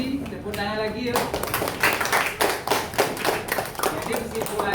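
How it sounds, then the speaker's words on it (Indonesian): A classroom audience claps their hands together, a steady run of sharp claps that starts after a brief pause and carries on with voices talking over it. "apresiasi, tepuk tangan lagi yuk."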